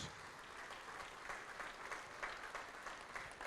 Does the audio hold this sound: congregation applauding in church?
yes